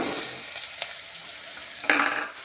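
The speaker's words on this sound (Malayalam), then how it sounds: "സവോള അരിഞ്ഞ് വെച്ചാൽ അത് അതിനകത്ത് ഇട്ട് കൊടുക്കുക ചെറുതായിട്ടൊന്ന് വാട്ടുക" Chopped onions sauté in a hot pan for a potato stew, giving a steady close sizzle with a couple of soft stirs and a louder burst of crackling near the end.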